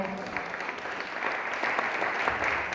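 A church congregation claps at a worship service, dense and even applause throughout, fairly quiet and slightly distant.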